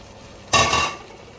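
Onion and leek hit a hot pan of stir-fried beef in one sudden loud sizzling burst that fades within half a second.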